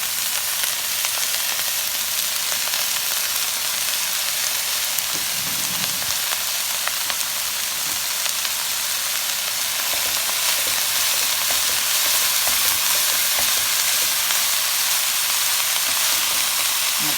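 Shredded cabbage and carrots for egg rolls frying in a pan: a steady, loud hiss and crackle of oil sizzling continuously, with no talking.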